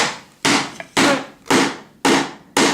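Five heavy, evenly spaced hammer blows land on a patio tile, each a loud close thud with a short decay, no voices in between.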